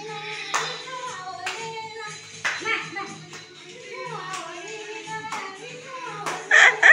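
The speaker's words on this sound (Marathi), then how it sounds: "टाळ्या वाजव ना बेटा, टाळ्या वाजव" A small child claps hands several times in uneven bursts while a woman coaxes and chatters close by, her voice rising over the soft, scattered claps.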